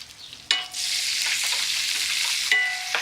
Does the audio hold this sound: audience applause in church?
no